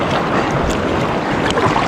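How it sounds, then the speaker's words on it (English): A kayak runs through river rapids on the Yampa, with loud churning whitewater, splashing and wind buffeting the microphone in a close, continuous rush. "Survived that set of rapids."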